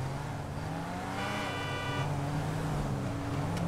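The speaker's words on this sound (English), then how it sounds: "I have a black SUV that's chasing me down and honking at me" A car horn honks from a black SUV in a GTA role-play video game, heard as a sustained tonal blare for about a second over a steady engine and traffic drone.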